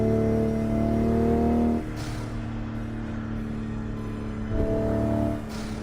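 A car engine on a driving simulator holds a steady, loud revving drone with harmonic tones, drops to a lower rumble partway through, then swells again near the end, with no talking.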